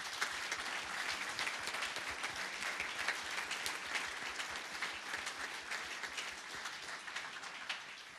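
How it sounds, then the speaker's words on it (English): Quiet, dense round of audience applause for conference panelists at a 2012 event, a continuous even patter of many hands without talk, holding steady throughout. "I would like to invite all of you to give a big round of applause to our"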